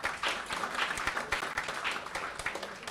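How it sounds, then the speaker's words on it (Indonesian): Audience applause at an inauguration ceremony for a professional certification institute and architecture studio, a lively wash of individual claps with distinct sharp hits standing out, fairly close and steady. "tepuk tangan dulu."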